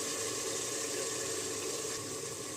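Water poured from a glass into a pot of mutton masala being cooked for biryani, a steady close rush of liquid running for a few seconds without pause or talk.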